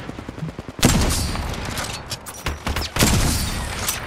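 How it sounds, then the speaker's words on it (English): Gunfire in the video game Apex Legends: a sudden loud burst of rapid automatic shots followed by further bursts and scattered reports, sustained and close throughout. "Who's shooting?"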